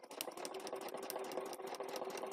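A sewing machine stitches fabric along a marked design line, a close, steady rapid mechanical whirr with fast ticking needle strokes throughout, and nobody talks.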